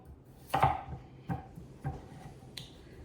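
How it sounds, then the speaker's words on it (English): A knife chops a potato into a few large pieces, four sharp, close cuts spaced roughly a second apart, with no talking. "Chop it in just a few pieces"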